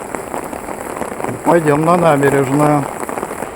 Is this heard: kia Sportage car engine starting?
no